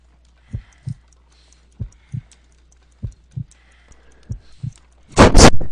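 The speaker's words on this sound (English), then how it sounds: "I need to concentrate and count the heartbeats." A slow, weak heartbeat in the Sherlock Holmes: Crimes & Punishments video game, about 50 beats per minute, thumps four times in dull lub-dub pairs over near silence before a loud burst of noise cuts in at the end.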